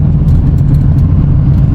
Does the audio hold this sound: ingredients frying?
no